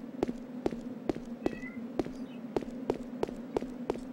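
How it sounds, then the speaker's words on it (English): A cat in the video game Resident Evil: Code Veronica X gives faint meows over a steady low hum, while sharp regular thumps like footsteps repeat about twice per second. "What are you doing to my cat in the dark?"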